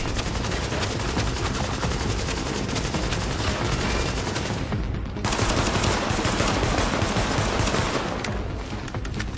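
Sustained, dense gunfire in The Division video game, a loud continuous barrage of rapid shots with only a brief dip midway, filling the whole stretch without talk.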